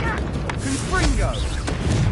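Confringo blasting spell cast during Hogwarts Legacy gameplay on PS5: short fiery bursts crackle in quick succession over a steady bed of game sound, with tonal cues drifting through.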